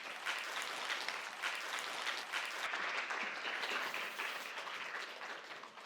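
An audience at a science lecture hall applauds steadily for the arriving lecturer, a dense, even wash of many hands clapping throughout, moderately distant with no talking.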